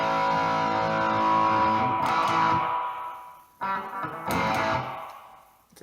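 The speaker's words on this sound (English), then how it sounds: "So that's like echo. That's awesome." Electric guitar through a Blackstar ID:Core 100 amp with an echo effect, sustained distorted notes ringing and repeating, a brief drop near the middle before another strummed swell fades out.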